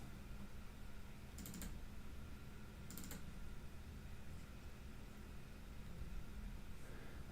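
Fingers type on a computer keyboard, with two short bursts of key clatter heard faintly over a constant background hiss.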